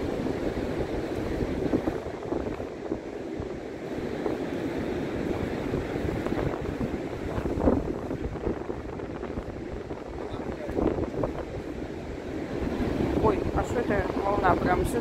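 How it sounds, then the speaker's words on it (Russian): Pacific surf washes ashore in a continuous rushing roar, with swells surging and breaking close by and wind buffeting the microphone. "волна прямо сюда идет на меня."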